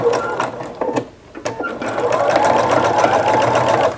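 A sewing machine runs steadily while stitching the folded edges of a fall oven mitt, close and loud, with a brief pause near the start before the motor hums on continuously.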